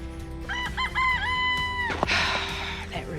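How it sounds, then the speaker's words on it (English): A rooster in a backyard garden gives one loud, nearby crow that rises and holds. Softer clucks come before it, and a brief rustling noise follows. "That rooster."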